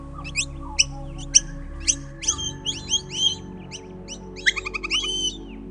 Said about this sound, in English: I can't believe there's so many miners and some black-eared miners.